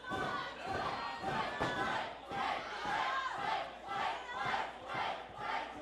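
A wrestling crowd chanting in unison for a wrestler named Blizzy, with rhythmic, repeated shouts rising and falling about once a second, heard from within a packed venue.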